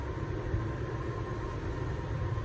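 An FDK double-ended long-shaft polishing machine with 205mm reach runs quietly, giving a faint, steady low motor hum and rumble with no change in pitch and no talking.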